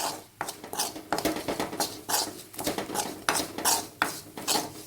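A spoon scrapes and clinks against a pan while turmeric powder and fenugreek are stirred for a pickle, in repeated close bursts with a faint sizzle beneath.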